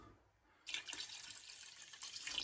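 Water pours steadily into a cooking pot of meat for Senegalese mafé, a continuous hiss and splash beginning abruptly after a brief quiet moment and running to the end.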